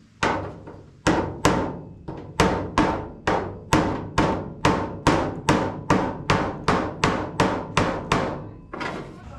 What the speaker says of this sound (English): grab my hammer and dolly and attempt to tap this down to line up with this